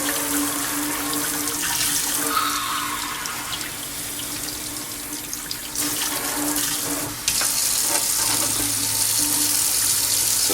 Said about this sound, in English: Rinse that off, flip it over.